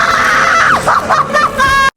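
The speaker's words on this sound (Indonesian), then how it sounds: "Dia berteriak kesakitan" A woman's loud, strained scream of pain in the horror film Immaculate, rising and wavering across two seconds with sobbing breaks, close and dominant before cutting off abruptly.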